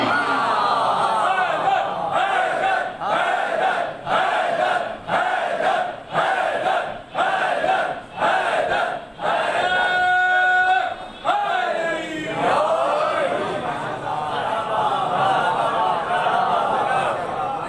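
A large crowd at an imambargah religious gathering chants together in Urdu in loud rhythmic bursts, voices rising and falling in unison with short pauses between phrases.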